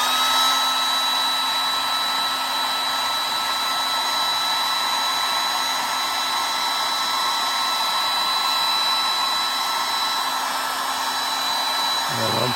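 A hair dryer blows steadily on acrylic paint for a house finch painting, a loud, close, constant whirring hum that runs unbroken for about twelve seconds, with no speech.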